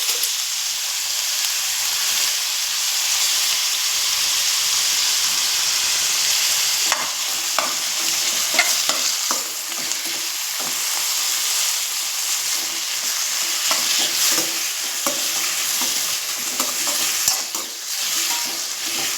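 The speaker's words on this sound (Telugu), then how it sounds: "కొంచెం పచ్చి వాసన పోయేలాగా వేపుకోవాలి నీట్గా" Tomato, onion and whole spices frying in oil for a paya curry, a steady close sizzle with scattered scraping stirs running the whole way through, no voices.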